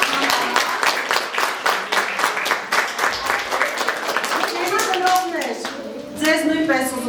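A children's concert audience claps for a young performers' song-theatre studio, with sharp, closely spaced claps for several seconds before they thin out and a voice begins talking over the fading applause.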